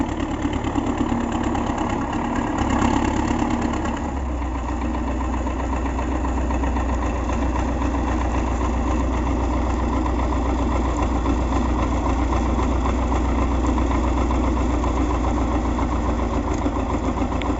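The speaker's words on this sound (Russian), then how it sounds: "Трактор тащит." An MTZ tractor engine runs steadily as it pulls through wet, loose, thawing snow, a close, constant low rumble with a vibrating drone that holds for the whole stretch.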